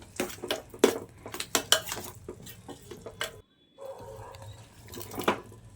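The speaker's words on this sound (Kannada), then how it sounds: "ಧನಿಯಾ ಪುಡಿನ ಸೇರಿಸ್ಕೊಂಡು ನೀಟಾಗಿ ಮಿಕ್ಸ್ ಮಾಡ್ಕೋತಾ ಇದ್ದೀನಿ" A spoon stirs drumstick gravy with coriander powder in a pot, producing close, rhythmic scraping clatters of metal on metal, a short pause, then softer stirring resumes.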